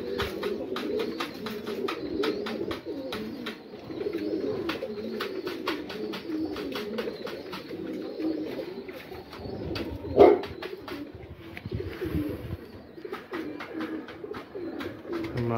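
A pair of Aseel birds gives low, repeated murmuring coos throughout, with sharp clicks mixed in and a brief louder burst partway through, heard at moderate distance with no talk.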